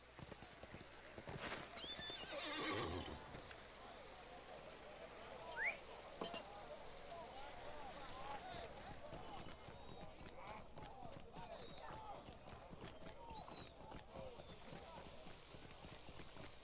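Horse hooves clip-clopping steadily with a neigh or whinny, ridden through the orc-haunted wilderness of Rohan in the video game Lord of the Rings Online, set under ongoing game ambience and a voice.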